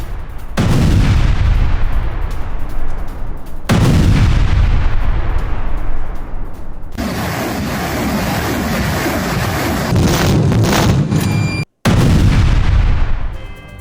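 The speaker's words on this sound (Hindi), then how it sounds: "MLRS से पूर्वी यूक्रेन पर किया अटैक।" Russian MLRS rocket artillery fires on eastern Ukraine in wartime footage, loud repeated booming salvos and sustained roaring launches filling the scene, with a brief cut to silence near the end.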